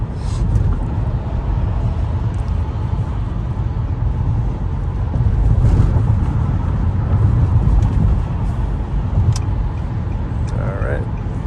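A 2003 Nissan Murano being driven on city streets and freeway, heard from inside the cabin as a loud steady road and engine rumble with tire and wind noise throughout.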